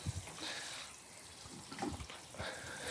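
Water runs from a hose or tap into a bottle set in a garden bed, a steady splashing flow heard close up with no voices.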